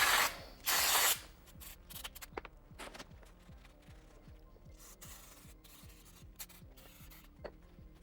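A couple of short hissing sprays of brake cleaner from an aerosol can onto the front brake of a 2010 BMW S1000R motorcycle near the start, followed by a steady rhythmic mechanical clicking.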